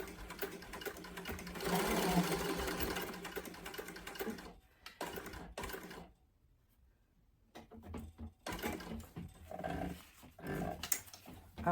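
A sewing machine stitches across a fabric facing and connector on a sling bag, running in a sustained burst, pausing into near silence, then restarting in shorter bursts of motor whir and needle clatter close by.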